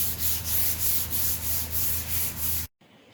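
Rhythmic back-and-forth strokes of 220-grit sandpaper smoothing the bondo-filled drop edge of an epoxy countertop, close and steady, stopping abruptly near the end.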